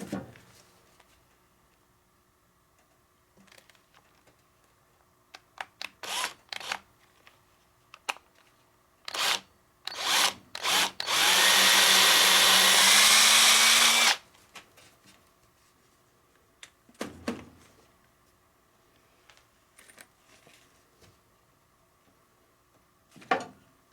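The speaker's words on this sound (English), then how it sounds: "it's probably a good idea to drill a pilot hole" A short burst of high, whining drilling as a pilot hole is bored into wood lasts a few seconds, surrounded by scattered clicks and handling knocks on a quiet background.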